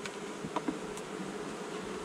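Honey bees buzzing around an open hive during a colony inspection, a dense steady hum of many insects close by, with a few brief louder passes of individual bees and no talking.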